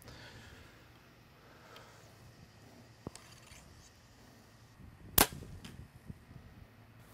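A broadhead-tipped arrow shot from a bow strikes a target outdoors in strong wind: one sharp, loud smack near the end, with a faint click earlier, over a quiet, steady wind hiss.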